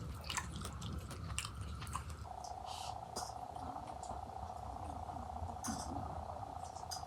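Someone eats rohu fish curry cooked with tomato and potato and topped with coriander leaves, with soft close chewing and biting throughout and a steady faint tone in the background.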